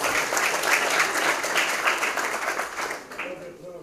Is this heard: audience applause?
yes